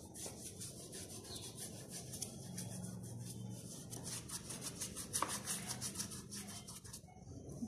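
Feet being rubbed by hand during an at-home pedicure, a soft continuous scrubbing and rasping close by with faint background noise and no speech.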